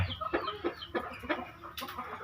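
Several short bantam hen clucks come in a loose, irregular series, close by, while the hen eats mealworms, with faint farmyard background and no talking.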